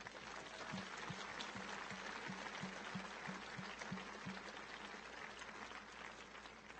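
A crowd applauds at the opening ceremony of a junior men's softball world championship, steady dense clapping filling the space at moderate distance with a few louder claps standing out.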